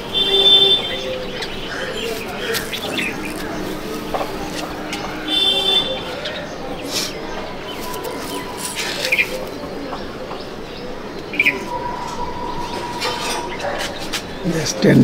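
Pigeons in a breeding loft of Andhra pigeons in Ichhapur, soft cooing and chirps mixed through a busy, noisy ambience, with someone talking over much of it.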